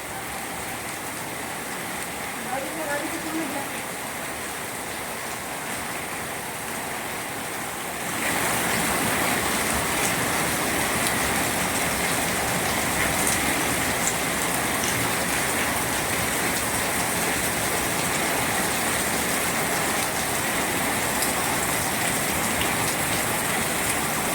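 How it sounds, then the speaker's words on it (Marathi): Heavy rain pours down in Udgir, a dense, hissing roar that is moderately loud at first and then grows noticeably heavier and louder after about eight seconds, continuing steadily with no voices. "बघा किती मोठा पाऊस चालू आहे"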